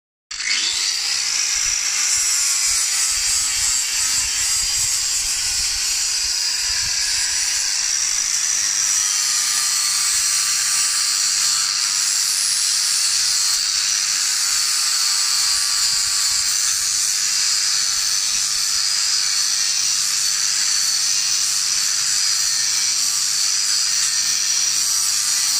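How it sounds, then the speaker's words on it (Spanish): A power sander working a wooden sissy bar for a motorcycle, a steady high-pitched whine that holds for about twenty-five seconds after a quick spin-up, close and loud with no talking. "Voy a preparar la movida para lijarlo."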